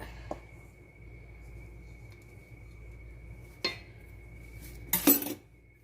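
Egg mixture being stirred into a bowl for bacon cinnamon rolls, heard as faint scraping with a few sharp clinks of a utensil against the bowl, spaced apart under a steady low hum.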